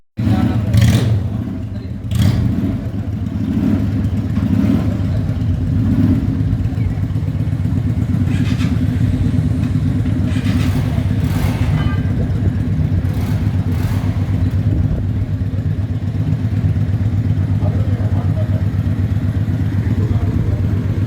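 A field-type motorbike engine rumbles loudly and close, revving in bursts at first, then holding a steady throaty idle.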